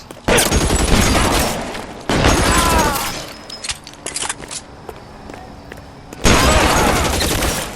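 Bursts of gunfire in the video game LA Noire, loud and close, rattling in dense volleys at the start and end with scattered shots and footsteps in the quieter middle stretch.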